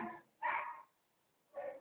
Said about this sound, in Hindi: बहुत भौंक रहा है, भौ भौ भौ भौ